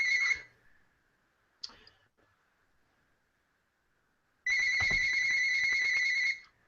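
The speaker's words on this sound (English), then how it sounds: "I'll mute that phone." A phone ringtone chiming electronically during an online hangout: a short burst at the start, a faint blip, then a long loud continuous ringing pattern near the end, with no talking over it.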